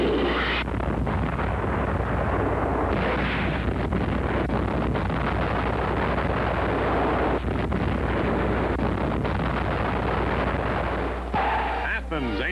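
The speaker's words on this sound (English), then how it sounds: "Army Signal Corps film picturing the havoc of gunfire and accurate hits" Wartime artillery gunfire blasts an enemy-held town, a continuous rumbling barrage of heavy booms and crackling impacts over a dense, noisy roar, with no clear voices.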